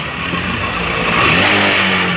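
A steady Bajaj Discover 125 ST motorcycle engine drone runs throughout, loud and close, with a slight rise in revving partway through and no voices.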